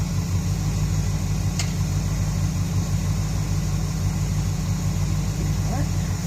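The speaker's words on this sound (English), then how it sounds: "Warm oil engine idling" A 1978 Jeep Cherokee engine idles warm, a steady low rumble with a regular pulsing hum, close and constant throughout, with a brief sharp tick near the start.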